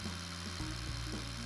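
A Diablo rebar-cutting rotary hammer bit drilling into concrete and cutting through steel rebar, a loud steady grinding hum with low droning tones that waver slightly, continuous and close throughout.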